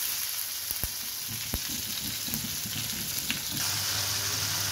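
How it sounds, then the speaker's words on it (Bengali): Tomatoes fry in hot oil over a medium-low flame, making a dense continuous sizzle with a few spoon knocks early on. The frying grows slightly fuller toward the end, with no voices. "টমেটোটা ভালো করে ভেজে নিতে হবে, খুব সুন্দর করে ভেজে নিচ্ছি।"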